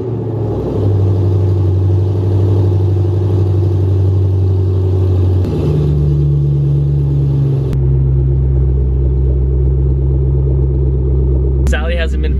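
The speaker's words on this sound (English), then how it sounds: "I can listen to Borla exhaust all day long." A car with an aftermarket Borla exhaust starting cold after sitting three days, settling into a loud, steady deep idle rumble with a brief step up in revs partway through, then a short clatter near the end.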